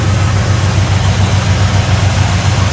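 A 1970 Oldsmobile Cutlass V8 idles steadily just after starting, a loud, even low rumble close by with no voices.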